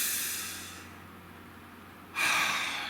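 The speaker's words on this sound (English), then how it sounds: "Nice deep breath." One slow, deep breath drawn in softly, then a louder breathy exhale close to the microphone, with no talking.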